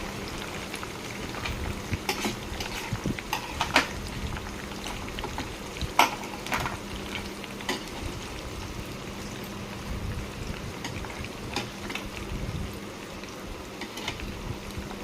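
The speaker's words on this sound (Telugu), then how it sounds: "ఇప్పుడు ఆనియన్స్ వేసుకోవాలి." Onions frying in a pan for a vankaya masala dish: a steady, moderate crackling sizzle with occasional sharper pops and stirring clicks, close by and without speech.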